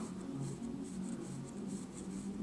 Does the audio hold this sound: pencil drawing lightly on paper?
yes